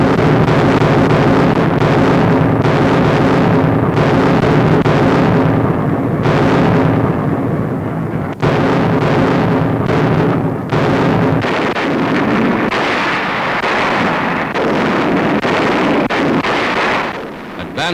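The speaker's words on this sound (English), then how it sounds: "The assault begins at night with a terrific naval barrage." An archival war newsreel carries a night naval barrage during an American assault in New Guinea, with continuous loud, rumbling blasts and roaring, wind-like noise throughout, dense and distorted, with no narration.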